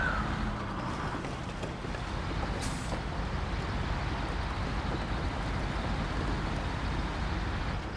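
A truck in SnowRunner strains through rough terrain on a dam map, its low engine drone steady and heavy, with a brief air hiss near the start.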